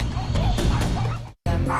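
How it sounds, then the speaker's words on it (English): Several sick newborn puppies whimper and yip in close, overlapping bursts, with a brief dropout near the end before the cries resume. "There are newborn puppies, and they all look extremely sick."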